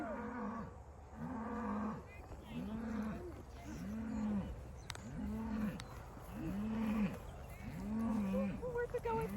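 Cattle moo repeatedly in a steady series of low, drawn-out calls, fairly close, with faint background noise between them.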